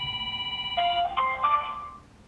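A phone ringing on an outgoing call: a bright electronic ringtone with several stacked tones shifting pitch over about two seconds, moderately loud over a low background hum.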